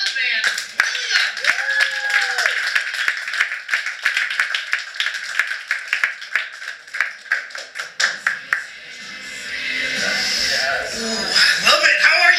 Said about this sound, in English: Please clap for Wes